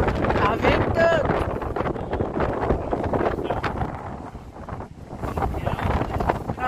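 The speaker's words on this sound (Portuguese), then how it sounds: "Tá ventando." Strong coastal wind near windmills buffets the microphone in a steady, roaring rush with gusty swells, loud and continuous throughout.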